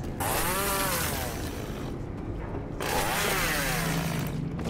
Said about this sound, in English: I bet we can use my chainsaw to rip that way out.